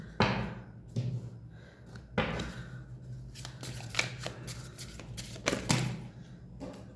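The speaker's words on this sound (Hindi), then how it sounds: "पहले हम यहाँ से कुछ कार्ड्स निकालेंगे।" Tarot cards drawn and shuffled from a deck, giving repeated soft riffling and snapping bursts with light taps in between, close and fairly quiet, no talking.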